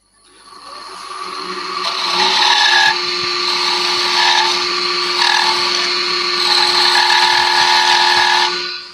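A wood lathe spins steadily while a crochet hook is turned with a detail spindle gouge, a loud close whine that ramps up and holds with faint pulsing and occasional tool scrapes.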